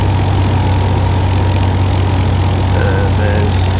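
A light aircraft engine reduced to 1500 RPM on approach gives a loud, steady drone inside the cabin with a constant low hum that does not change over the short stretch.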